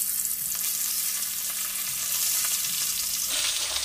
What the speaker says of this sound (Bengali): এবার ওই তেলের মধ্যে মাছগুলো আমি একটা একটা করে দিয়ে দিচ্ছি।